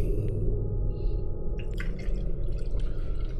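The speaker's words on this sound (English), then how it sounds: "I am pouring another drink." A drink is poured into a glass at a gaming setup, with a short splashing, trickling fill that rises toward the end, close and clear over a low background hum.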